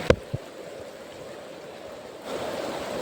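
Heavy rain pours steadily outside a dark farmhouse with water everywhere, a dense, even hiss that swells louder near the end, with two brief knocks at the very start.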